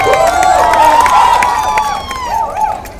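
A crowd at a hotel opening cheers and claps loudly up close, with shouts and whoops rising over a continuous wash of applause.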